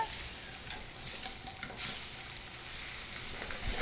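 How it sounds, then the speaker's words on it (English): Blackened salmon fillet sizzling in a hot pan as it is flipped over, a steady close frying hiss with a brief louder flare midway, no talking. "There we have a nice blackened sear on the top of that salmon. So we're flipping it over."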